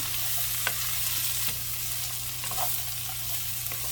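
Onion and garlic sautéing in a pan while beetroot is being cooked: a steady close sizzle and frying hiss with faint stirring clicks and scrapes, no talking.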